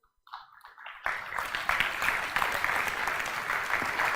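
Applause from a seated audience at a Jain religious discourse in a hall, starting with a few scattered claps and swelling within a second into steady, dense clapping that continues evenly to the end.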